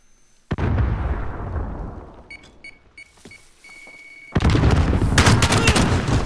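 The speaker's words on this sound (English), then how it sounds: "Because I started shooting." Shotgun blasts and gunfire in Call of Duty: Modern Warfare, loud bursts from the start that fade, a few sharp cracks and beeps, then a dense, heavy spell of shooting near the end.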